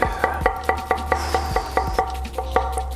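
A kitchen knife chopping a peeled onion on a board, sharp regular knocks about four per second, close and crisp with no talking.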